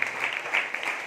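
Congregation applauding together at a Christmas church service, a brief burst of dense, even clapping from many hands, heard alone at moderate loudness.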